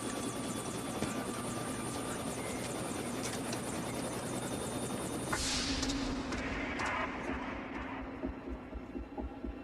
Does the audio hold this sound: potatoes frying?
no